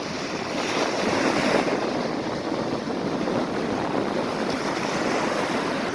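Ocean surf at a South African beach rolls in as a steady, loud wash of breaking waves with wind noise over the microphone, continuous throughout with no talking.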